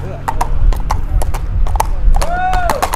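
A tall riding horse, about 1.55 m, walks with steady, close clip-clopping hooves. The horse gives a short whinny near the end, and people talk in the background.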